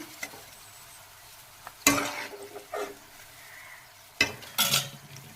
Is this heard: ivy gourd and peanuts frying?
yes